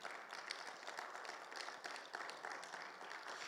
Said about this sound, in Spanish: ¿Cuánto dan un fuerte aplauso, Señor, por favor?